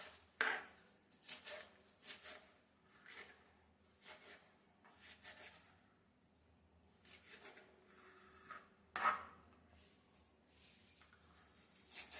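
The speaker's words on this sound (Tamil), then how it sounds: "இதை இப்போ நம்ம பொடியாக கட் பண்ணி எடுத்துக்குவோம்." Quiet, irregular knife taps on a cutting board, spaced out with pauses, as mudakathan leafy greens are finely chopped; faint and distant-sounding, no talking.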